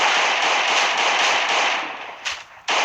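Rapid bursts of gunfire from guns in the survival game Last Day On Earth, a loud continuous string of shots that dips briefly before resuming, with no talking.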